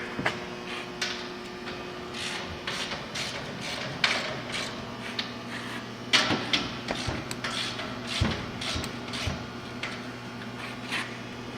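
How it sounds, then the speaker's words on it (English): A wrench re-snugging bolts on a Heatmor furnace, a run of quiet ratcheting clicks and metallic taps at close range, with no talking. "Put your bolts back on. Re-snug them up again with your wrench."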